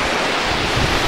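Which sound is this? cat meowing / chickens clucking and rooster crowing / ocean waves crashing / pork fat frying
ocean waves crashing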